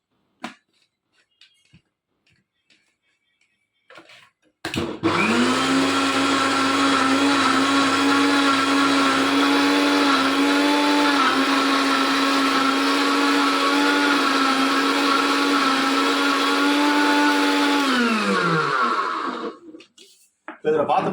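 A mixer grinder blends bitter gourd for juice in a loud, continuous whirring run of about fifteen seconds, starting and stopping abruptly. The motor's pitch sags slightly midway, and a few quiet clicks and handling sounds come before and after.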